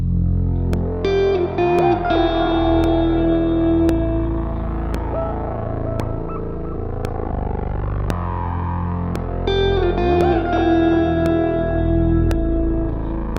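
A music sample built in an FL Studio plugin, with later phases pitched up 12 and then 24 semitones, plays as a distorted, echoing synth loop with steady rhythmic pulses and layered tones that repeat partway through.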